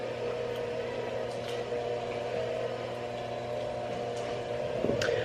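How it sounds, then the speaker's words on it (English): An electric hand mixer whirs steadily through cookie dough lush filling until lump free, a constant motor whine with faint scraping clicks near the end. "now we are fixing to mix it together with the hand mixer until it's lump free"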